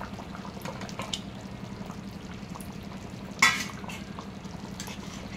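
Okra and egg curry being stirred in a pan on the stove: a soft, steady simmering bubble with faint scraping, plus one brief louder stir or splash midway, no voices.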